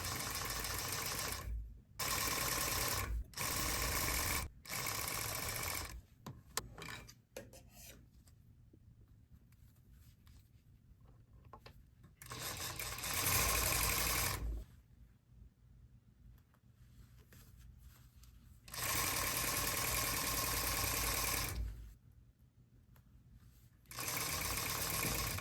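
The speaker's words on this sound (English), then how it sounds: "This is the final stage where I'm stitching 1/4 inch away from the edge" A sewing machine stitches a back welt pocket a quarter inch from the edge in bursts, several short runs and longer steady passes broken by quiet gaps while the fabric is adjusted, close and fairly loud.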